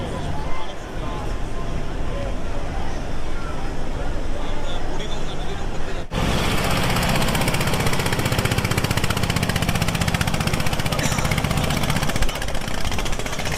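Passenger launch pulling away from Sadarghat on the Buriganga River bound for Barisal, its engine a loud, steady low drone with a constant rumble that grows heavier after a sudden cut, with faint background voices.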